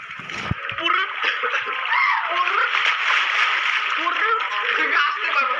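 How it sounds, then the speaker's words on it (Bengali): Water splashing in a swimming pool as a child swims, a steady bright wash of splashes and churning water lasting throughout, close by, with excited young voices talking over it. "গাইজ আমি সাঁতার কাটতেছি দেখো"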